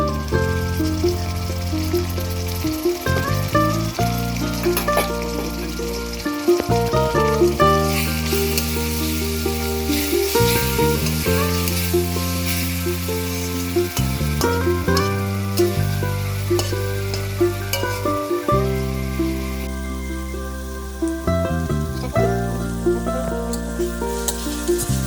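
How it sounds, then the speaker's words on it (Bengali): Onions browning in a pan with ginger-garlic paste for a home-style chicken kosha, a steady sizzle and stirring scrapes running under a layer of tonal background music throughout. "আদা রসুনের পেস্ট দিয়ে দেব, দিয়ে ভালো করে নাড়তে থাকবো"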